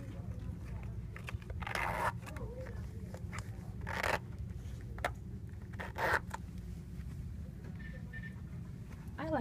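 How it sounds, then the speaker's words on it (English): Boots from Target being zipped up, several short scraping zipper pulls in quick bursts, close and fairly quiet over a steady low background hum. "Let me see if they zip up."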